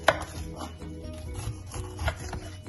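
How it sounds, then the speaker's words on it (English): A knife thuds and crunches through a pineapple on a chopping board, with irregular close cuts and scraping over faint background noise. "cut the back of the pineapple."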